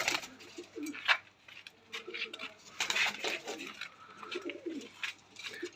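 A pair of Kamagar pigeons, one green and one blue, coos softly and intermittently at close range, while someone speaks throughout and faint clinking sounds occur in the background.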